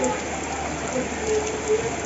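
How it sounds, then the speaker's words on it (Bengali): Heavy storm rain pours down steadily as a dense, even hiss, close and continuous with no voices. "সারাটা দিন আজকে বৃষ্টি একদম গড়বন্দি হয়ে গেলাম"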